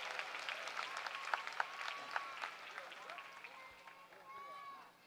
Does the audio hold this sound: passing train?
no